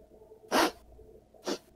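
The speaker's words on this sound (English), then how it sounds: "A real sneeze." A person sneezes twice, each a short, sharp burst close to the mic, about a second apart. The room is quiet around them.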